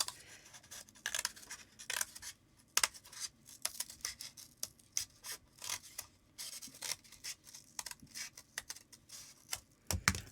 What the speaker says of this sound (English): Okay, and we'll just cut that around.